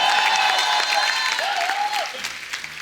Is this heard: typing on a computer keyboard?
no